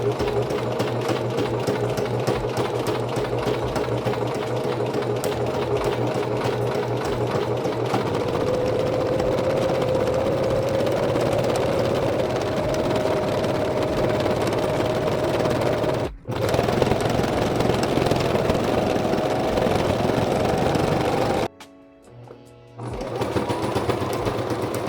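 A sewing machine stitches fabric in a steady, continuous whir, close and loud, running almost without pause before briefly cutting out near the end and starting up again.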